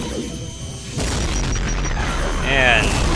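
A rocket launcher explosion in Brutal Doom 2 lands as a loud, close boom, followed by crackling debris, with game noise and a voice talking over it.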